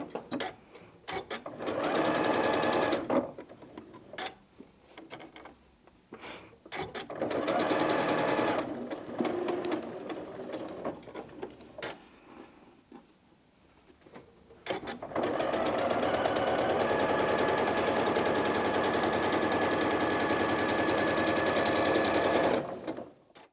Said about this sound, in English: take those to the machine and sew a scant 1/4 inch either side of that drawn line